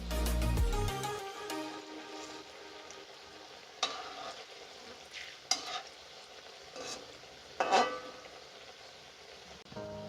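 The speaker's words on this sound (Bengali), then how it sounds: "তো পুলিগুলোকে আমি উল্টে পাল্টে ভেজে নেব দুটো পিঠি।" Jackfruit puli fry in oil in a pan and are turned over. A soft, continuous sizzle is broken by a few distinct scrapes and clatters of a spatula flipping them.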